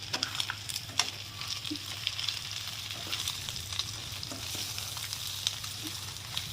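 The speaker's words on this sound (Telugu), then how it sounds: "చికెన్ అయితే బాగా ఆయిల్లో ఫ్రై అయిపోతుంది." Chicken frying hard in hot oil with added chili powder and turmeric, a dense, steady sizzle throughout, with faint scraping and stirring clicks scattered over it and no voices.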